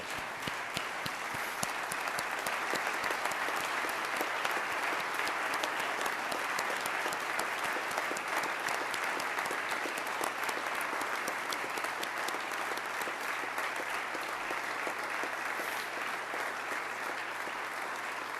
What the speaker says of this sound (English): Let's give those 2001 inductees a great round of applause.